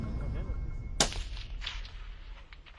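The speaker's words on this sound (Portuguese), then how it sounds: "De novo o tiro." A single sharp sniper rifle shot cracks out at a long-range shooting range, aimed at a 40 cm metal ring target 550 metres away, followed by a fading echo under a low background rumble.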